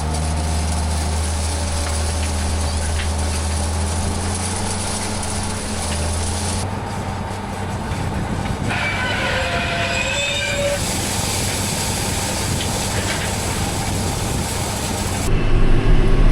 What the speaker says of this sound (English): Let's go hop in the tractor, do some raking.